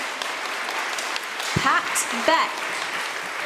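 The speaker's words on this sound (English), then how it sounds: "receive a small gift and a round of applause from our community" At a church service, the congregation applauds volunteers with steady clapping throughout while a speaker talks over it, naming people.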